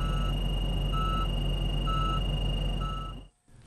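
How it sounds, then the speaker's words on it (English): A front-end loader's rear object detection alarm sounds four evenly spaced beeps over a loud, steady engine rumble, then the machine noise cuts out abruptly near the end. "Rear object detection alerts the operator to objects behind the machine with an audible alarm."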